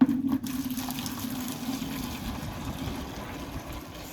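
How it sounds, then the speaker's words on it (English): Hot water pours steadily into a bowl, a continuous splashing gush after a brief louder start, close by with no talking. "So I'll be pouring it into the bowl right now."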